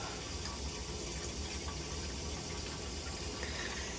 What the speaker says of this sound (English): to get water going down the drain